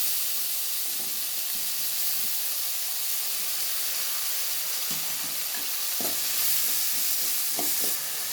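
Chopped tomatoes hit hot oil in a pan and sizzle with a loud, steady hiss, broken by a few soft knocks and scrapes of stirring, close by and with no one talking.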